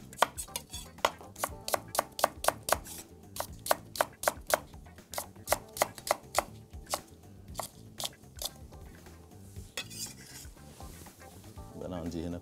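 A knife chops leeks on a board in quick, rhythmic close knocks. The strokes thin out and grow quieter toward the end amid faint kitchen background noise.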